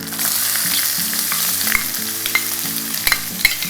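Chopped onions sizzle and crackle steadily in hot tempering oil for vegetable upma, with a few clinks of a utensil stirring the pan, close and continuous with no talking.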